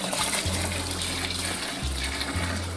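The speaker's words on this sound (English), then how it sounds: "Add the hot water to the wort." Hot water at 80 degrees Celsius pours into homebrew imperial stout wort, a steady splashing gush under a low humming drone that cuts in and out, close, with no talking.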